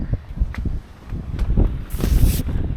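Gusty wind buffets the microphone with low rumbling bursts, rising into a louder rush near the end, with faint rustling throughout.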